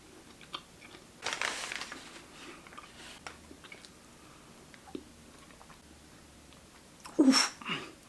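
A maple sugar square is bitten with a sharp crunch, followed by quiet chewing and small clicks, then another louder crunching bite near the end, all close and without speech.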